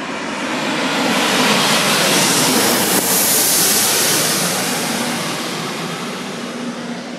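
An Etihad passenger jet landing at Sydney Airport beside the runway 16R threshold, a loud broadband engine roar that swells to a peak mid-way and then slowly fades as it passes.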